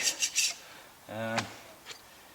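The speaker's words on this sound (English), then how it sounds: "Then just start scraping it all away, working it, clean it, get it down to a nice bare surface" Old head gasket material is scraped off a Vortec 4.3 engine's cylinder head, with three quick rasping strokes up close, then a brief higher squeal and a fainter final scrape.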